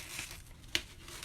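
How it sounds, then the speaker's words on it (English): A Chalk Couture transfer sheet peels away from a surface with soft crinkling and a sharp crackle midway, brief and close, with no talking. "So again, we're just going to peel top to bottom."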